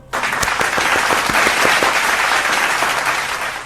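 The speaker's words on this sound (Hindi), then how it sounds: "आप जोरदार तालियों से उनका स्वागत करें।" An audience at a poetry recital bursts into loud, dense applause to welcome a poet, a steady wash of many hands clapping that holds for several seconds without talk.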